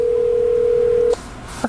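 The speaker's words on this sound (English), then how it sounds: "I'm calling him, and there he is." A phone call's steady single-pitch ringback tone holds for about a second before cutting off abruptly, followed by a faint click and brief electronic blips.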